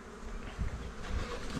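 Honeybees of a very young colony being moved into a hive buzz steadily up close, a low droning hum with a few louder swells as bees pass near.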